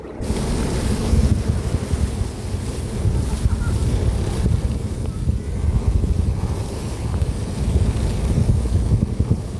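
A motorcycle engine churns through deep flood water in Bunsuran 1st, Pandi, Bulacan, with steady splashing and rushing wind noise, loud and continuous, with no clear talk.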